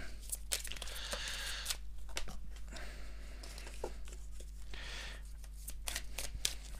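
Oracle cards shuffled for a face-down card reading, a soft continuous riffle and slide of card stock with light crinkly patter, close but faint, against a steady low hum.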